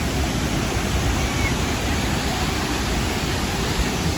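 Muradiye waterfall roars as a steady, loud, broadband rush of falling water, unbroken and close, with no voices over it.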